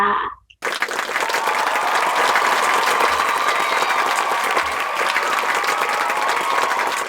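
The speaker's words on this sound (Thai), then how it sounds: "ขอเสียงปรบมือหน่อยแล้วกันนะคะ" Members of a credit union cooperative applaud a guest, the chair of its board, with loud, sustained and even clapping after a brief lead-in.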